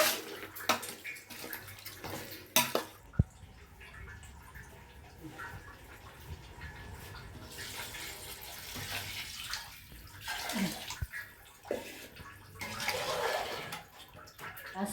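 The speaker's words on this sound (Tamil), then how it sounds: "அதனால் 8 கிளாஸ் தண்ணி எடுத்துகிட்ருக்கேன் நான்." Water poured from a vessel into a cooking pot while making biryani, a continuous splashing pour with a few knocks and clatters along the way.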